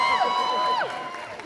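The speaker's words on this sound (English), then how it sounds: "No, don't cheer for him." A comic convention crowd in Liverpool cheers for Negan from The Walking Dead, a loud burst of whoops and shouting voices that rises sharply and then tapers off over a second or so.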